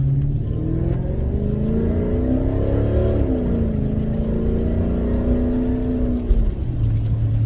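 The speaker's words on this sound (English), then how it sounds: "We'll give her about a little quarter throttle or so, see if she gets out of her own way." AWD Hemi car engine held at about quarter throttle, a loud, close, sustained rumble whose pitch gently rises and falls through the middle and settles again near the end, with no voices.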